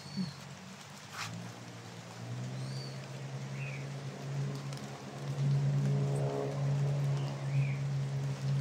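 Motorcycles approach: a faint, distant low engine drone grows noticeably louder in the second half and holds steady, with no one talking.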